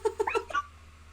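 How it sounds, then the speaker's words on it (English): A cat throwing up indoors, giving a short burst of close, strained, meow-like retching sounds that stop abruptly, with quiet room noise afterward. "I think my cat is throwing up."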